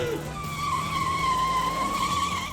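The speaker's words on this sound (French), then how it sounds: "Au programme du tracteur en dérapage, de la glissade qui finit en tête à queue" A tractor skids and spins out on a Centaure safety-training track, its tires giving one long, loud, steady squeal with engine rumble underneath throughout.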